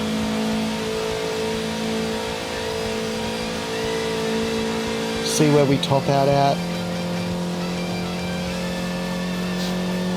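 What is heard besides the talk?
car accelerating down Conrod Straight at Bathurst, video game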